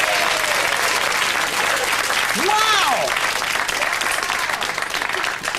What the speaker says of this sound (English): Give him a clap, look at that!